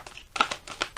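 A tarot card slides out of a deck with soft papery crinkles and brief rustling swishes, close and quiet, with no voices.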